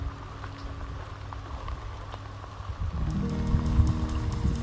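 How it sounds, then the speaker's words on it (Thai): Rain falls steadily on a vegetable garden, a soft, even patter that swells louder toward the end, with a low droning hum joining in. "ขอโทษทีนะ พาชมสวนตอนฝนตก"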